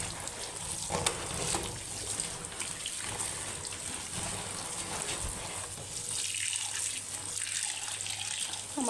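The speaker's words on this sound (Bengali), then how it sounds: "কচুটা এখন ধুয়ে নিই।" Taro is washed under a running tap, with a steady close stream of water splashing and trickling over it for the whole stretch.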